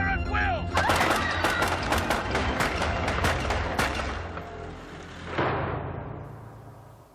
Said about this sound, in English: Rapid fire at will!